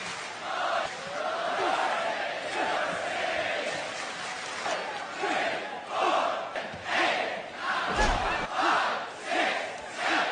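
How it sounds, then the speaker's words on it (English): A large arena crowd at a WWE SmackDown wrestling show chants in unison, the rhythmic surges of voices rising and falling across the full span at a strong, sustained level. "Listen to this crowd of Free Sabin."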